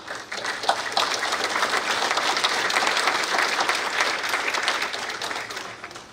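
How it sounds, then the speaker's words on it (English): Warm, steady applause from a dinner crowd at a veterans' social in North Reading, Massachusetts, many hands clapping together at a full level before thinning slightly toward the end. "let's give him a great round of applause"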